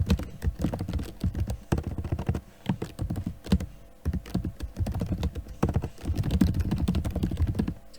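Rapid, irregular clatter of keys as someone types text into a box on a computer keyboard, steady and close throughout with brief pauses and no voices.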